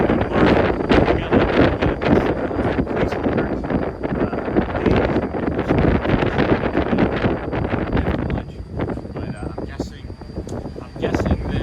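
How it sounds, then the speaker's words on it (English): Outdoors on a morning walk at Magic Kingdom, Disney World, gusty wind buffets the microphone in loud, continuous rumbling bursts, and a voice is partly heard beneath the noise. "It sounds like it would be windy."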